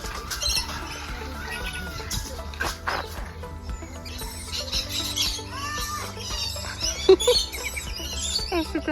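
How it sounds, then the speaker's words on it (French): A parrot gives repeated short chirps and squawks close by in Guadeloupe, mixed with other bird calls and busy rustling background noise. "J'ai jamais vu un perroquet d'aussi près."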